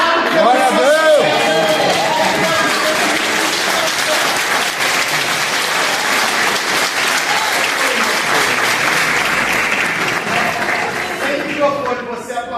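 Church congregation applauding during a pastor's installation service, sustained loud dense clapping with some cheering and voices mixed in, tapering off near the end as talk resumes.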